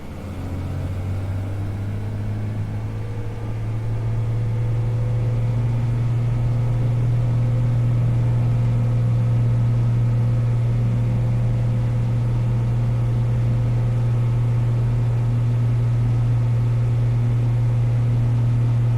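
A Cessna 182 light aircraft engine drones loud and steady through a takeoff roll from runway 12 at Lockhart River, a constant low hum with no talk.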